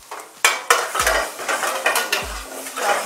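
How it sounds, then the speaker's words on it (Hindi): Cumin and garlic tempering in hot oil, a crackling sizzle while a spoon stirs and knocks against the pan several times. "थोड़ा सा तड़का लगेगा इसमें जीरे का"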